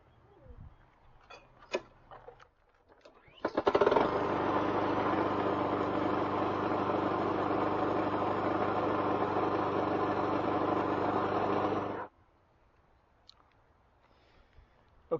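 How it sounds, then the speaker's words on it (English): A push mower engine starts up and runs steadily at idle for about eight seconds to warm its oil, a loud, even drone that cuts off abruptly, with faint handling noises before and after. "The first step in changing the oil is to start this engine and heat this oil up so that it will drain"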